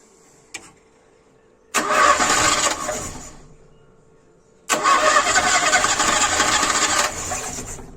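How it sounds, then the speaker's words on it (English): A Ford Escort MK2 barn find, unstarted for 27 years, cranks and catches twice: two loud bursts of engine noise, each a few seconds long, separated by a pause, with a faint click beforehand. "See if this will be the first start of this car in 27 years."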